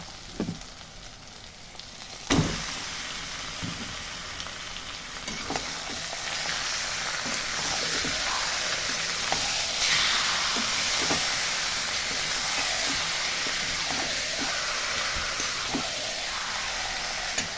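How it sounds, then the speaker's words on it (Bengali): Pieces of chicken hit a hot pan with fried garlic for a butter chicken dish, then keep up a steady, loud sizzle and hiss that carries on with occasional stirring knocks. "এইবার আমি এর মধ্যে চিকেনটাকে ঢেলে দেব।"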